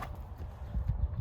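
Hooves of a gelding ranch horse clip-clop quietly in a short, uneven run of soft thuds at moderate distance, with no voices.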